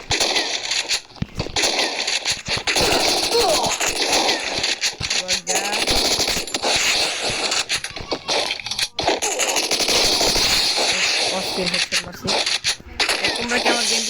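Dense gunfire and explosions from a shooting video game, including a grenade, crackle and pop continuously and loudly, with a voice talking over the action.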